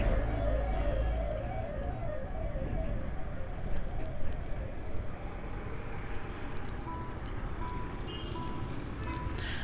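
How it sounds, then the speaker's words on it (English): Ambulance siren wailing in a rising and falling pattern from an approaching emergency vehicle, heard on a road in Sirsi from an OLA S1 Pro electric scooter, steady and fairly loud over road noise and wind. "There's an ambulance coming."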